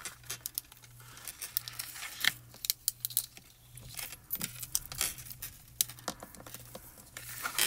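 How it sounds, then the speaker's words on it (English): A small pokey tool punches a hole in paper for a twinkle light, giving close, crisp clicks and papery crinkles in irregular bursts over a faint steady hum, with no talking. "I'm going to punch just a little hole at the base of the light"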